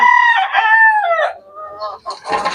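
A rooster crows loud and close on a small Philippine farm raising gamefowl, one long rising and falling call, followed by softer clucks and chicken noises.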